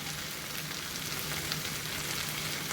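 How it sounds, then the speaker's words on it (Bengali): Ground turmeric, chilli and cumin sizzle steadily in hot oil in a pan while cooking a jackfruit and prawn dish, a continuous close frying hiss with no talk. "এবার ভালো করে আমি মশলাটা কষিয়ে নেব"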